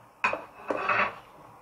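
Onions being stirred in a cooking pot while making spinach stew, with a sharp metallic clank of the utensil against the pot, then a second clank and a stretch of scraping and clinking before it fades.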